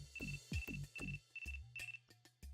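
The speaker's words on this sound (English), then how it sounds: "Bond's phone began to ring." A phone rings in short repeated electronic bursts, a steady ringtone pattern of bright tones with pauses between, clear and alone.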